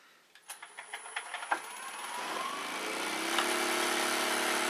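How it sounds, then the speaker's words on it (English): A small buffing wheel on a polisher is ticked through a few quick bumps and then spins up into a rising, steady whirring hiss that settles at a constant speed, with no talking. "it's a small buffing wheel"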